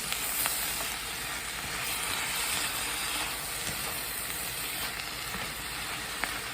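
Onions and garlic fry in a pan for a home-cooked chicken chili, a continuous close sizzle with soft scraping from stirring and occasional small pops, no voices.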